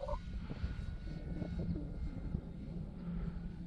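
An Air Tractor crop-dusting airplane drones overhead with a steady, moderately distant engine hum and propeller buzz that holds throughout, heard alone.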